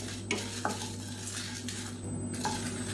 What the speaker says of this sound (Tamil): இது எல்லாத்தையும் வாசனை வர அளவுக்கு வறுத்துக்கலாம்